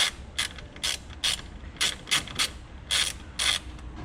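A driver clicks as T20 screws are backed out of a Tesla Model X frunk, a series of short, sharp ratcheting bursts in irregular clusters, close and fairly crisp, with quiet gaps between.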